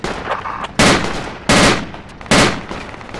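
Gunfire in the military video game Project Reality on the Saaremaa map, with three loud, sharp shots spaced under a second apart, each with a booming decaying tail over faint background battle noise.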